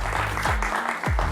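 Studio audience clapping as a guest walks onto a television talk-show set, a brief spread of handclaps mixed with some low thumps, fairly close and steady.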